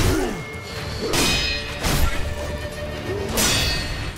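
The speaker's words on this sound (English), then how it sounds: "the huge clash effects that really sells the impact of the attack being redirected, and the oh-so-satisfying ting sound effect that plays alongside it" Sword parry clash from the video game Sekiro: several heavy metallic impacts with whooshing swings, each strike followed by a bright ringing ting, repeating in a quick, punchy rhythm.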